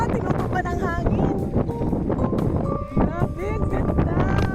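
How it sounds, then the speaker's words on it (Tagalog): Strong gusting wind buffets the microphone at an open lettuce farm in Bagac, Bataan, a constant loud roar with rumbling low end, while a person speaks over it. "Sobrang lakas ng hangin"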